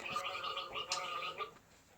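A Senegal parrot squawks and chatters indoors in a burst of harsh, gargling calls with bright whistly tones, close to the listener, then falls quiet near the end.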